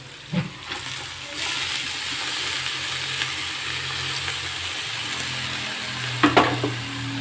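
Chopped spinach greens sauté in a pan over an already softened base, giving a continuous even sizzle with a few brief utensil knocks near the start and end, with no voices.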